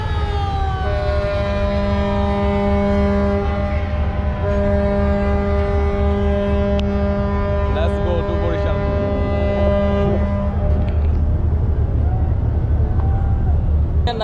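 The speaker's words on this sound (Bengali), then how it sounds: "আমাদের লঞ্চের যাত্রা শুরু হয়ে গেছে আমাদের লঞ্চটা এখন বরিশালের উদ্দেশ্যে রওনা দিলাম" A passenger launch leaving on a river voyage toward Barisal gives a long, loud, steady horn blast with sustained tonal layers, over a constant low engine rumble and ambient noise.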